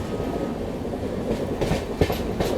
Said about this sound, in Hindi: पीछे भी एक WAP7 लोकोमोटिव लगा हुआ है